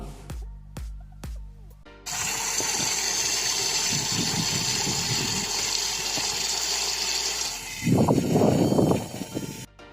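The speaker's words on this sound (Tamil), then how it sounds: "நமக்கு இப்போ மினி வாட்டர் பம்ப் ரெடி ஆகிடுச்சு. இதை நம்ம இப்போ செக் பண்ணி பார்த்துடலாம்." A homemade mini water pump driven by a small coreless drone motor starts with a few sharp clicks, then whines steadily at high speed while water gushes, growing louder and splashier near the end.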